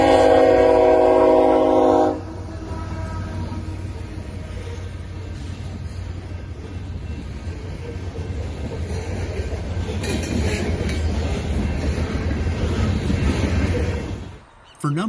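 A train rumbles steadily past a level crossing with a sustained horn blast at the start, a loud continuous roar of rail cars that cuts off near the end.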